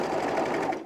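A sewing machine stitches the underarm seams of a pullover camp shirt sleeve in eyelet fabric, a steady close whirring run that holds for the whole short burst without pause.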